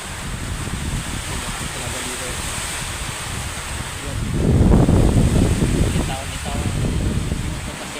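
Strong typhoon wind during Typhoon Verbena roars and buffets the microphone, rising into a louder gust midway, with heavy rain hissing underneath.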